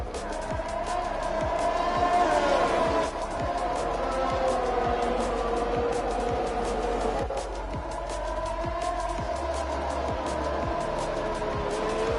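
Formula 1 race cars in an F1 video game at the Bahrain Grand Prix, with a steady high engine whine and a continuous rush of cars racing, at a constant loud level and without talk.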